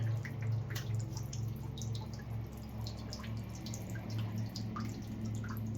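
Leftover water drips from a pulled-off plastic fitting on a water pump, scattered small drips and trickles over a steady low hum.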